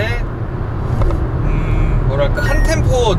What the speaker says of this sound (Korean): 가속 페달을 꾹 밟았는데 6000rpm까지 올라갔어요